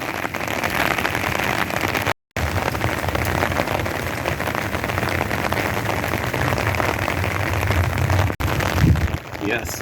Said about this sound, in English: It's quite a steady rain now.